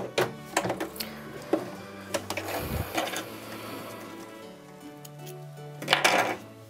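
A domestic sewing machine stitches a zipper in bursts of fast mechanical rattling, stopping and starting, with clicks and light knocks between runs, close and moderately loud, no voices.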